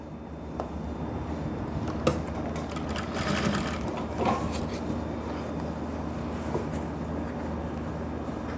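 Electric sewing machine stitching elastic-back trousers with a front waistband, a steady continuous motor whir running through with a few small knocks, close and alone without speech.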